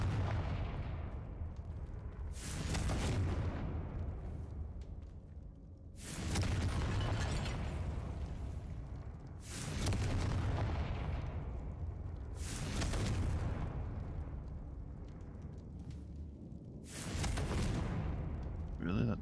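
Fiery Confringo blasting spells go off in Hogwarts Legacy, several loud bursts spaced a few seconds apart over a steady game soundscape, with a person talking between them.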